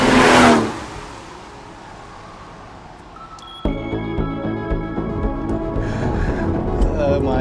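A 6-litre Aston Martin DBS sports car engine idles low, then suddenly roars as it revs hard, the growl climbing in pitch and staying loud and close.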